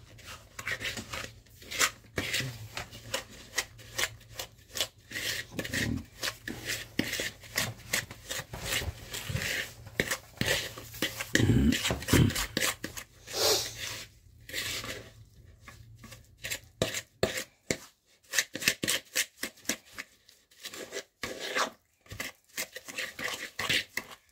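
Sugar and margarine being creamed together by hand in a large bowl for iced Christmas biscuits, heard as a long series of close, rhythmic scraping and rubbing strokes with brief pauses.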